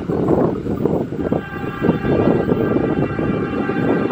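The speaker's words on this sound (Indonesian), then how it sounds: "Bersilang dengan kereta api Serayu ya" The Serayu train passes at Cipendei station in Indonesia, a loud close rumble and clatter of rolling stock with a faint horn tone woven through.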